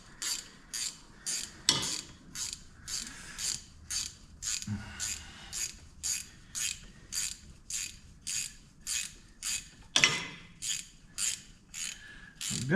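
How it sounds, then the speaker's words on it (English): Steady ratcheting clicks from a wrench tightening a part on a ZAU narrow front axle, about two pulls per second, close and clear with a couple of louder metallic knocks and no talking. "Let me tighten this one up real quick."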